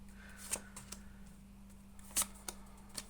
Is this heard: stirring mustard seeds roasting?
no